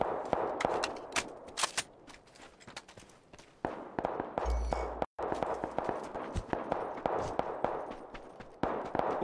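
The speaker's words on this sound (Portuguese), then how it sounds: "Quanto tiro, cara?" Rapid bursts of gunfire from a shooting video game crack repeatedly at close range, dense volleys broken by a brief pause, with faint footsteps between shots.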